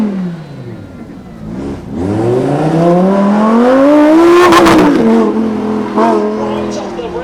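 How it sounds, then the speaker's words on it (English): A supercar at the Beaulieu Supercar Weekend launching off the rev limiter in first gear, engine note climbing loud and close, then shifting as it pulls away, with tire noise and a voice talking over it. "Right off the rev limiter in first gear."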